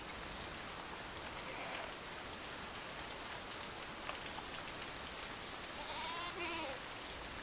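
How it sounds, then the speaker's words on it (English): Steady torrential rain pours across Welsh mountain pasture, with several sheep bleating at a distance, a pair of calls near the end standing out over the constant hiss of the downpour. "At this time of year, torrential downpours are an almost daily occurrence."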